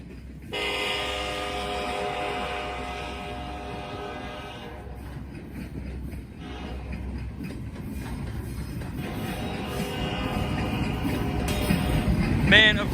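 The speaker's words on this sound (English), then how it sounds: "And here are the units." PSR 1182 leads a freight train of locomotives past at close range, a loud rumbling roar with engine hum and a rising rattle of wheels and wagons toward the end.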